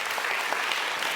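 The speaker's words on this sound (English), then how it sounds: "Can I have a round of applause for Gijs?" An event crowd claps for an award speaker in a brief, dense burst of applause at full strength throughout, with no pauses or voices.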